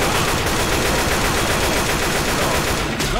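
Dense, continuous automatic gunfire from the co-op video game Left 4 Dead 2 roars loudly and steadily throughout, with rapid overlapping shots and no pause.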